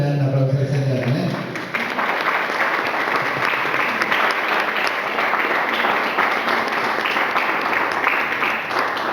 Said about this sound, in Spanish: ¿Cuántos le dan una aplauso al Señor?